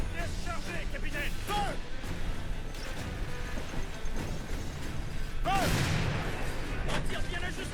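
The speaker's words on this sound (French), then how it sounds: "Mais balance tes canons!" Ship cannons firing in Assassin's Creed Black Flag, a rolling barrage of booms and crashes mixed with clanking mechanisms, a heavier burst near the end, with voices shouting over the battle.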